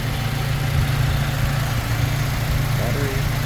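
The 2.7-litre gasoline engine of a 2015 Toyota Fortuner Black Series idles with a steady, even low hum that holds constant throughout, close by and unbroken.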